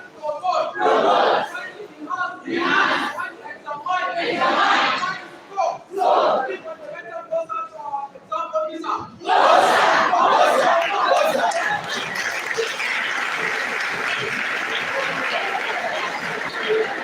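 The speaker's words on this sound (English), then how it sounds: "A round of applause for you, please." Audience applause and cheering fill a hall at a first annual career program held by a Department of Human Kinetics and Health Education, rising loud and sustained after a stretch of speech and voices.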